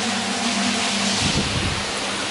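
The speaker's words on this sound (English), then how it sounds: "Water's so fast." Fast-flowing water rushing through a tunnel, a steady, loud broadband roar that fills the whole clip, with a low hum early on and slight churning near the middle.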